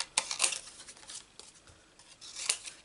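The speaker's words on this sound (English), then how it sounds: "I think we might need to cut this down" Scissors snip paper during a Stampin' Up papercraft project, giving a few sharp, crisp cuts spaced irregularly and close by, with no talking.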